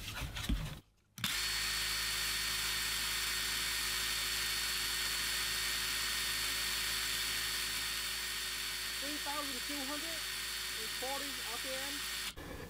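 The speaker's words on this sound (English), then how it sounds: "I'm going to do the same test, and this time use my impact driver." A Ryobi impact driver runs on a Ryobi 4Ah battery, starting after a brief pause into a loud, continuous high-pitched motor whine that holds steady to the end, with someone talking faintly underneath near the end.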